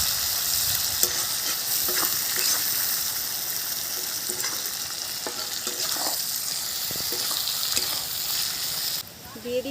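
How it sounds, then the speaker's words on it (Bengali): Onions, salt, cardamom, cloves, cinnamon and a bay leaf sizzle and fry in a pan while being stirred, a steady loud hiss with scraping stir clicks throughout, made while cooking an egg curry. "দিয়ে দিচ্ছি পেঁয়াজ। পেঁয়াজের ওপরে দিয়ে দিচ্ছি অল্প করে নুন।"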